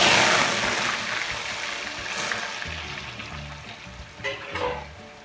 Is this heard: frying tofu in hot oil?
yes